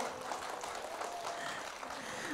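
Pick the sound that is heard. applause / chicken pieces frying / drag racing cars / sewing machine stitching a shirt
applause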